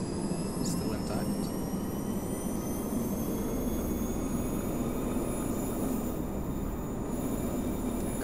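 An aircraft auxiliary power unit spins up in the DCS flight simulator, a steady rising turbine whine and rumble running the full length.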